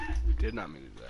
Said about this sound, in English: I'm sorry about my dogs. They're a little annoying.